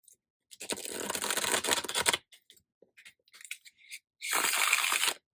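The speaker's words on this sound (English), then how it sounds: "Doing the riffle shuffle in the bridge." A brand-new tarot deck riffle-shuffled and bridged, giving a dense, close ripple of flapping cards for over a second, a few light taps and card clicks, then a second short riffle burst.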